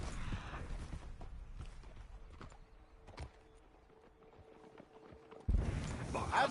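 In Red Dead Redemption 2, a horse's hooves clop softly and irregularly at a walk, faint and distant beneath quiet ambience, with a louder burst of sound at the end.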